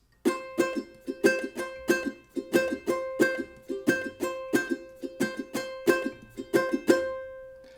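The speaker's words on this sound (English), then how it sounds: "they do have like a high-pitched muted sound" A muted ukulele plays the plucked high-pitched intro of a song, about twenty short damped strums and picks in a steady bouncing rhythm, close and clear with no voices.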